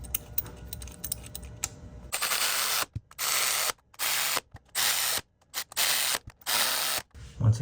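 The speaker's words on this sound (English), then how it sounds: "That's probably my ratchet." A ratchet clicks in repeated quick strokes while torquing 10mm bolts on Acura NSX ignition coil packs, close and crisp, with short pauses between bursts after some quieter fiddling at the start.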